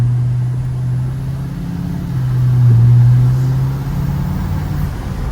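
A deep, steady diesel engine drone from a Chevrolet L5P pickup with aftermarket exhaust rumble, rising slightly in the middle as the truck pulls harder, continuous and fairly close.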